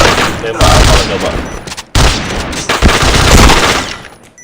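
Rapid automatic gunfire bursts in a shooting video game with bomb-defusal rounds, loud bursts separated by a brief pause, with voices talking over the action.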